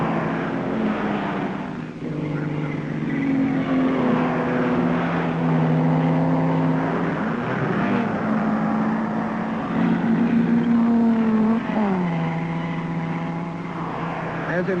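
Engine of a twin-boom Nardi race car at the 1955 Le Mans 24-hour race winding up, a steady droning tone that rises and shifts pitch several times, loud and continuous throughout.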